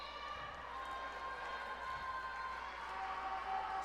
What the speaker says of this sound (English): Union Scotties boys basketball team behind the bench cheering on